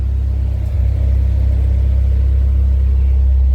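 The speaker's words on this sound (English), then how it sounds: "She's misfiring a little." A Vauxhall Corsa B engine idles with a slight misfire, a steady close low rumble with small uneven dips in its pulse and no talking.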